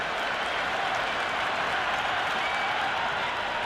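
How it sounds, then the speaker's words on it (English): A large cricket crowd at an Ashes Test between Australia and England cheers and applauds in a dense, steady roar that fills the whole stretch without a break. "The crowd is electric right now."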